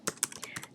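Quick bursts of typing on a computer keyboard as a web address is entered, about half a dozen close, crisp keystrokes in under a second with no talking.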